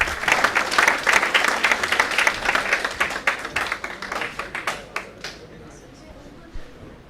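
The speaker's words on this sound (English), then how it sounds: "A big round of applause, please." An audience applauds loudly with dense, steady clapping that gradually thins out and fades to a few scattered claps.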